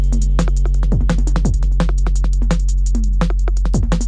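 A fast, punchy drum and bass beat from an Elektron Analog Rytm drum machine with booming kicks and crisp snares in a rolling, syncopated rhythm, loud and alone.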